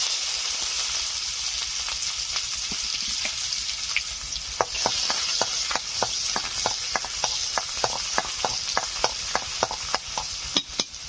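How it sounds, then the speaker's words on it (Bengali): Dried red chillies, nigella seeds and chopped onion frying in hot oil, a steady close sizzle with a run of sharp crackling pops that grow more frequent partway through. "তেল ভালো করে গরম করে নিয়ে গরম হয়ে গেছে, দিয়ে দিচ্ছি 2টো শুকনো লঙ্কা, দিয়ে দিচ্ছি কালো জিরে, দিয়ে দিচ্ছি পেঁয়াজ কুচি"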